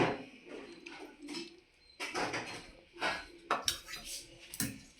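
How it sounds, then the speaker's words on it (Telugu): Ghee goes into a pan of jaggery chalimidi with cashews, followed by a series of sharp metallic clinks and scrapes of a spoon against the pan, irregular and close, with quiet pauses between bursts. "నేను మళ్ళీ కొంచెం నెయ్యి కూడా వేసుకుంటున్నాను"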